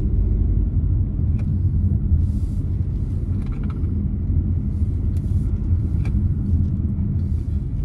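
A car runs a cone slalom on a driving-school track at Modlin, its engine rumbling steadily and close throughout, with a few faint higher clicks and squeaks over the drone.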